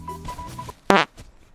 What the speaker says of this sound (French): T'as pété?